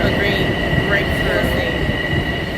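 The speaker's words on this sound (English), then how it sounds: "my train's here" A New York City subway train pulls into a station with a loud, steady rumble and high metallic wheel squeal, the roar filling the whole moment with no voices.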